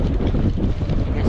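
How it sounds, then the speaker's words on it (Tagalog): Strong cold wind rushes outdoors near a machine that runs all night, a steady, close, rumbling roar that buffets the microphone throughout and drowns everything else. "Lamig pa naman, lakas ng hangin no."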